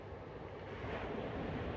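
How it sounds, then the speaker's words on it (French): Waves wash onto a sandy beach as a steady, soft roar of surf that swells slightly toward the end, distant and continuous with a breezy hiss and no voices. "Ce bruit des vagues, très apaisant, très agréable"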